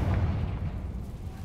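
The Confringo blasting spell from a Harry Potter video game goes off as a deep, rumbling explosion with heavy low boom that decays over about a second and a half.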